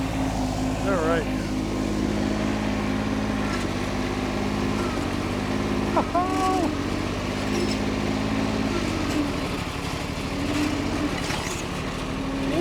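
Tractor engine running steadily and loud throughout while lifting a log with a Garvee 28-inch log tong, a low continuous drone with brief tonal whines, and a voice speaking over it.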